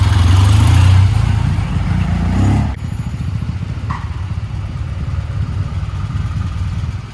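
A 1979 Triumph Bonneville motorcycle engine, freshly started after fifteen years, runs loud and close; heavy low rumble and revving for the first few seconds, then settling into a steady, rapid idle chug.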